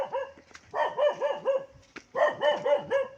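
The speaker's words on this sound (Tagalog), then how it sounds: "Galit yung aso" An angry dog barks in rapid bursts, two runs of several sharp, close barks separated by a short pause, with no talking over it.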